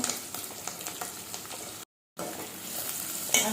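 Garlic, green chillies and onion fry in a pan for chamagadda pulusu, a steady close sizzle with scraping stir strokes, broken by a brief silent gap midway.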